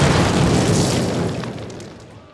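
Explosives detonate against a cinder block wall in the Call of Duty video game, a loud, close, sustained boom that rumbles and slowly fades over a couple of seconds.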